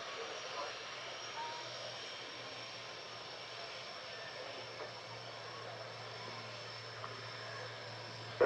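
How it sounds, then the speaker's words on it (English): Jaguar military jets taxi along a runway, heard as a faint, steady distant engine whine and hum with no clear change over the stretch. "So the Jaguars taxiing back down the runway to return to their parking spaces."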